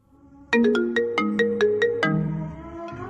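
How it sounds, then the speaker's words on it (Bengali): A phone ringtone plays a bright, repeating melodic chime of quick notes. It is loud and close, with no talk over it. "ঠিক তখনই নিচের ফোনটা বেজে ওঠে।"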